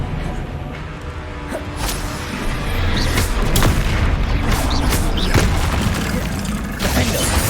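Bombarda and Confringo blast spells in Hogwarts Legacy, a dense run of booming explosions and whooshes striking in quick succession, loud and busy throughout.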